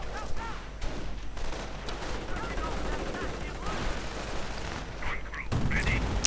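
Gunfire in a World War II video game battle, with sniper shots and Browning Automatic Rifle bursts, comes as scattered cracks and rapid rattling bursts over a dense battle din, with a heavier surge near the end.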